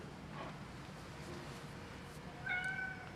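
Tuco the cat gives a single fairly close meow near the end, heard over faint, steady room hiss with no talking.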